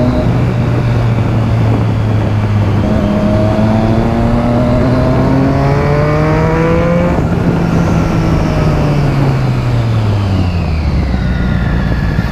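A motorcycle with an open exhaust and DB killer removed revs hard, climbing through gears with quick-shifter upshifts, loud and close, then the engine note drops away near the end.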